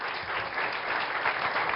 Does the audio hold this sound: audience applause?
yes